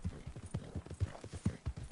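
Horse hooves clip-clop in Red Dead Redemption 2, a steady walking rhythm of quiet, distinct thuds repeating about every quarter second, close and alone without voices.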